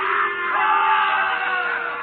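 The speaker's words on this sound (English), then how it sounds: "The crowd encouraged to jeer at the man of truth." Crowd of courtroom spectators jeering in a radio drama, a dense, loud wash of overlapping shouts and yells sustained throughout, with no single voice standing out.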